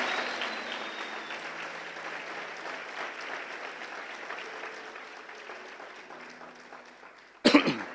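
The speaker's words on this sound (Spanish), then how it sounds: "Dele un aplauso al Rey si lo cree." Church congregation applauds in a steady spread of clapping that gradually thins out, with a cough or throat clear near the end rising sharply above it.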